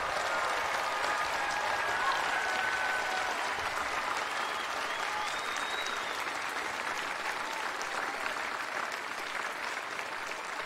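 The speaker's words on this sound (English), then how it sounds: "Let us once again applaud our newest alumni." Graduates and guests at a university commencement diploma ceremony keep up a steady, even round of clapping that fills the hall at moderate loudness for about ten seconds without letting up.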